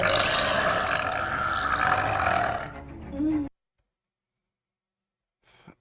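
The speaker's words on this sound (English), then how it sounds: "Burps are back." A loud, long burp rumbles close to the mic for about three seconds, ending in a rising croak, followed by silence and a faint sound at the very end.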